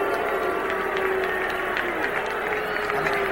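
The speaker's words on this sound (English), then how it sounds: "They're booing Steve Little." A football stadium crowd at a 1980 Rams versus Cardinals NFL game boos kicker Steve Little, a sustained broad rumble of many voices with scattered sharp claps and noises, steady throughout.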